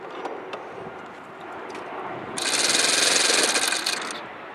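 A Saito twin-cylinder model glow engine is turned over with its glow driver at low throttle, giving a scraping, rubbing churn that bursts into a brief loud, rough buzzing roar for about two seconds before easing off.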